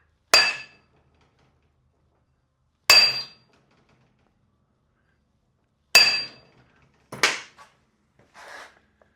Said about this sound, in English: I'm going to take this hammer and tap it on that